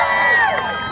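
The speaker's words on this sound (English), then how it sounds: "So a big round of applause for Fatima" A protest crowd in Oldham town centre cheers and whoops for a speaker, a brief burst of raised voices and shouts, close and fairly loud.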